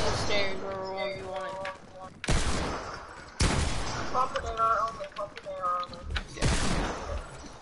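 Bursts of gunfire in a keyboard-and-mouse video game, loud broadband volleys cutting in repeatedly between stretches of tonal game sounds, with a voice talking at times.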